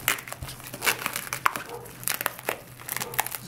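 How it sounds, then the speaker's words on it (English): Bubble wrap is peeled and pulled off a ReplayXD 720 POV camera during unboxing, making continuous close crinkling and crackling rustles with occasional sharper pops. "So it comes in this bubble wrap, I guess."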